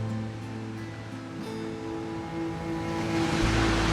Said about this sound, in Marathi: बापरे बघा ना, किती पाऊस, किती पाणी.